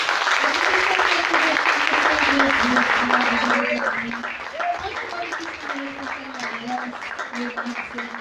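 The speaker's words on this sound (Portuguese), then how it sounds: "aplauda o Senhor bem forte" Congregation in a church service applauding, a dense wash of clapping that swells and then thins out, heard under a preacher's voice speaking Portuguese over it.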